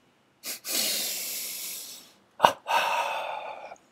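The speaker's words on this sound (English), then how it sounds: "Now this breathing is called double breathing." Breathing in a double pattern: a short sniff then a long drawn breath, a pause, then a short burst followed by a long exhale. Close and clear, no talking.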